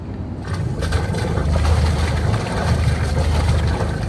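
A boat engine starts: a loud, steady low rumble rises after a brief quiet start and keeps running, mixed with wind buffeting the microphone.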